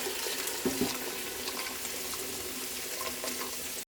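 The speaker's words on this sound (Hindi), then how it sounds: "साथ ही हम इसमें उबला हुआ पानी डाल देंगे।" Boiled water poured into an aloo chicken curry in a pot, a steady close splashing pour with a couple of soft clinks at the start.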